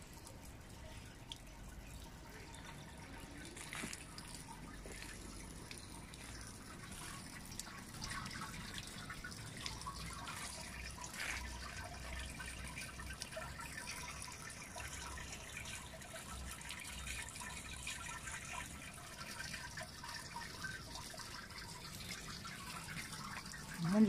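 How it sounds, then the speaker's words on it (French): Water drips slowly from a tap said to carry non-drinking water, a faint, steady trickle of small drops over a low outdoor background hum that lasts throughout. "vraiment du goutte à goutte ici"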